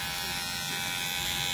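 An electric hair trimmer buzzes steadily and close during a mid skin fade haircut, a continuous bright electric hum with no voices over it.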